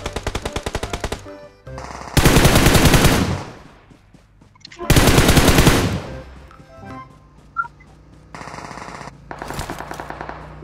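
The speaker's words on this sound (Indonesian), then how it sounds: "Awas ditembak di lancep mek." Loud automatic gunfire from the mobile battle-royale game PUBG Mobile, with long rapid bursts separated by shorter volleys and quieter gaps. A few isolated shots land between the bursts, and there is no talk.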